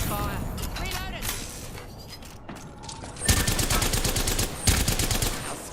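Video game gunfire in a squad shooter, dense rapid bursts of shots that swell louder in two heavy volleys near the end, with a voice talking over the mix.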